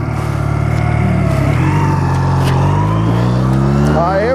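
A 2009 Honda Rebel 250 motorcycle pulls away under full throttle, its engine note climbing through the gears with a brief dip at a shift, loud and close from start to finish.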